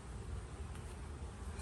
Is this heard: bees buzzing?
yes